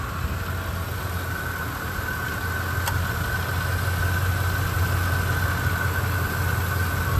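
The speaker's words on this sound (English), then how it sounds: "that's what an engine is supposed to sound like" A 2004 Ford F150 FX4 pickup truck engine idles steadily with a smooth, even low rumble and a faint hum, continuous and close by.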